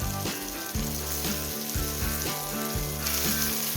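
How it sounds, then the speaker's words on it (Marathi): Konkani-style pomfret fish shallow-fry in a pan, three at a time. A continuous, close sizzling hiss carries on with a repeating low tonal hum beneath it, and no one speaks. "मी आधी तीन तळून घेते आणि पुन्हा तीन तळली"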